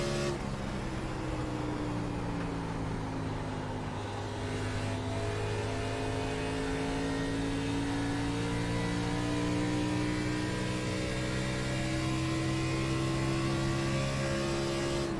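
A NASCAR Xfinity race car engine in a racing sim holds a steady, sustained drone through a lap, its pitch easing slightly and climbing again, continuous and unbroken with no voices.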